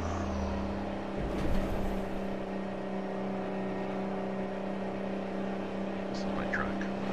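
Engine of a Mack B62 truck in American Truck Simulator, a steady low drone with a constant hum, close and continuous, with someone speaking over it.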